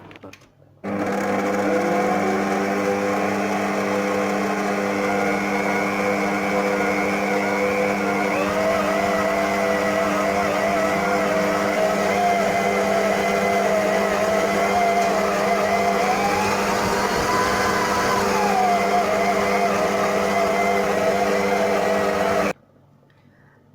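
A food processor or mixer runs continuously for about twenty seconds, mixing mini pizza dough with baking powder, a steady loud motor whine with slight pitch shifts as the load changes, starting and stopping abruptly.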